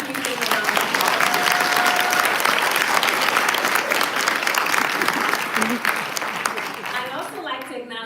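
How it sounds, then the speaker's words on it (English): A large audience at a congressional district event claps in a dense, steady round of applause that slowly thins toward the end, with a voice faintly audible over it. "Please give them a round of applause"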